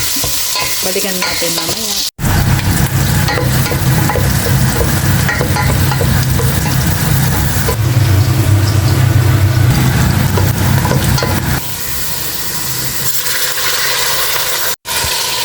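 Ingredients for white bean soup sautéing in a pan with pepper, a loud constant sizzle and frying hiss broken by scraping stir strokes, with a brief pause and a few spoken words.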